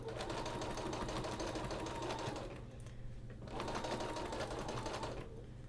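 A sewing machine stitches through a quilt during machine quilting, running fast in a continuous rapid buzzing rattle, pausing briefly twice before starting up again, close and steady.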